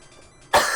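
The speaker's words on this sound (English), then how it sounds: "Sorry about coughing so much and all." A single sharp cough bursts out close and loud after a brief quiet moment, with no talk around it.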